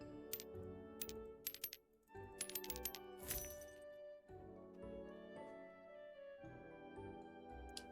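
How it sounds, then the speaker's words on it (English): In a shop simulator video game, soft clicky cashier sounds and bright coin-like chimes are backed by steady tonal background music, with short bursts of clinks and clicks at irregular intervals. "everybody hates cashiering in a shop simulator, but there's just something about that clicky feedback"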